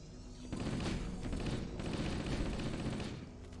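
Sustained shotgun fire in the video game Halo, a dense roaring barrage of overlapping blasts that starts abruptly and holds loud for about three seconds, with no talk over it.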